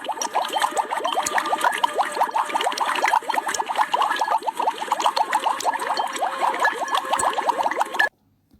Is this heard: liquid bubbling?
yes